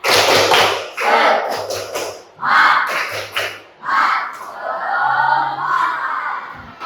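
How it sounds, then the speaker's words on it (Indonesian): A class 8 Islamic studies group performs a tepuk semangat clapping chant, loud voiced bursts punctuated by rhythmic claps in repeated phrases, the group sound close and energetic. "tepuk semangat semuanya ya"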